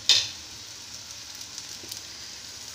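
Ground spices (salt, garam masala, cumin powder and sugar) frying in a hot pan give a soft, steady sizzling hiss, with a brief louder crackle at the very start and then a quiet, even fry.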